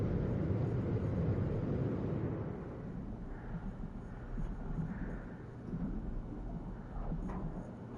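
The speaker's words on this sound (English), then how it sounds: "now I'm into the extreme storm" An extreme storm in the video game No Man's Sky rumbles with low, steady thunder and wind, a dense, distant-sounding roar that swells and eases at moderate loudness with no voices.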